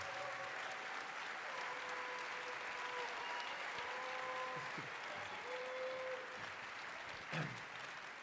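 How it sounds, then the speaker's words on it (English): Audience applause at a live marketing conference, a steady wash of clapping from a large crowd that holds at an even level for several seconds, heard at some distance with faint tonal sounds and a brief thump near the end. "Stand up and give a huge round of applause."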